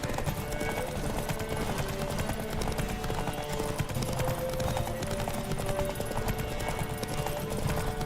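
Horses gallop in a race in The Witcher 3, their hooves drumming in a dense, continuous clatter that stays loud and steady throughout, blended with other in-game sound.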